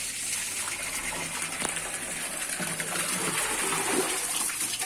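Borewell water gushes strongly and steadily from a tap outdoors, a loud, continuous rushing stream with no break.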